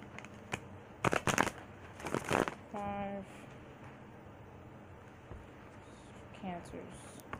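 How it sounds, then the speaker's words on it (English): Tarot cards being shuffled on a bed: a few quick papery riffles and bursts near the start, then softer rustling, with a person speaking briefly in between. "Cancers. Almost done shuffling,"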